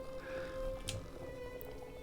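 A cat meows once in Hollow Knight: Silksong, a short, moderately loud call over a steady game music and ambient bed.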